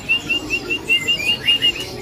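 Sumatran daranting, a settled, tame songbird, calls in a run of short, bright, repeated chirps at a steady rhythm, fairly close and clear over a soft background.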